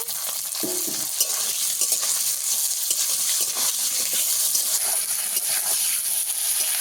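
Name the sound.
potatoes frying in oil with salt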